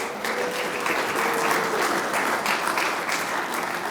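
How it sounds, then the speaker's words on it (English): An audience at a river-themed community evening in Summit County gives a round of applause. The clapping is steady and dense and lasts several seconds with no voices over it. "So if we could give them a round of applause."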